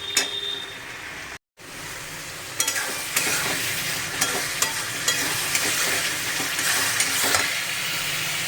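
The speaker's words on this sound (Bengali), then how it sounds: "এটা এখন ভালো ভালো করে কষবো, কষে কাঁচা মশলাটা যতক্ষণ না গন্ধটা যাচ্ছে" Raw spice paste frying in hot oil, a constant close sizzle and hiss broken by repeated scraping stir strokes from a utensil against the pan.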